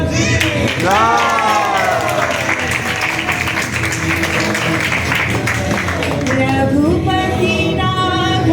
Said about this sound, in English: Big applause for Krishna